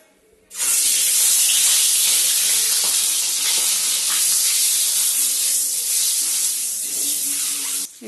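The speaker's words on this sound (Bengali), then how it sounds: "এখন আমরা ডিমটা একটু ভেজে নেব হলুদ দিয়ে" An egg fries with turmeric in mustard oil for a potato and egg curry, bursting into a loud, close, hissing sizzle that holds steady for several seconds before it stops abruptly.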